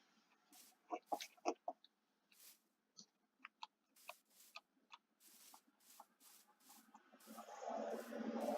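Chickens in a dwarven kingdom video game cluck in quick, irregular bursts, several short calls scattered over a few seconds before a louder rush of noise builds at the end.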